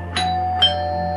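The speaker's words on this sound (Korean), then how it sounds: "조심스럽게 초인종을 눌렀습니다." An apartment doorbell rings in two bright chime strikes about half a second apart, each tone ringing on and decaying over a quiet background.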